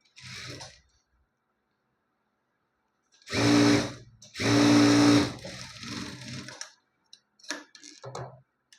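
A sewing machine stitches blouse fabric for the front part of a blouse in two short, close bursts of whirring with a low motor hum, separated by a brief pause and followed by quieter handling noises.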